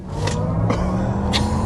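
Cabin of a 2025 Chevy Blazer EV SS, a 615 hp electric SUV, accelerating: a steady low road rumble and hum with faint scraping swells, constant and close, no voices.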